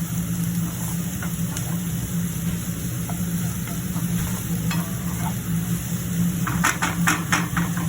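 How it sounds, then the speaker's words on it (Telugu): Green chillies sizzle and fry in a pan for a beans masala curry, with steady close stirring and scraping throughout, a few sharper clinks near the end. "పచ్చిమిరపకాయలు గోల్డెన్ ఫ్రై బాగా ఏగిన వరకు ఎర్రగా వచ్చే వరకు బాగా కలుపుకోవాలి"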